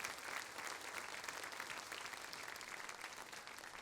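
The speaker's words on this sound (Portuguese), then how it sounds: "Vocês podem aplaudir o Senhor?" A church congregation applauds, a dense, steady wash of clapping that holds evenly from start to finish with no voices on top.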